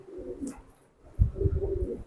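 Soft, low coos from a military-breed pigeon, a few short murmuring calls up close, with a faint rustle in the background.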